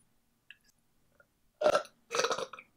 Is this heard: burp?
yes